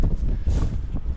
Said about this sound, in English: it is blowing like crazy out here now